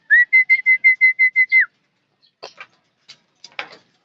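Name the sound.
racing pigeons arriving at the loft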